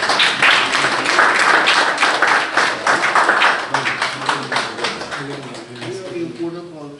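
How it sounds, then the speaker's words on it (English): Audience clapping at a book launch in Richmond Hill, New York, welcoming a political candidate forward, a dense steady patter of many hands that thins toward the end as a voice begins speaking. "Please give him a big round of applause."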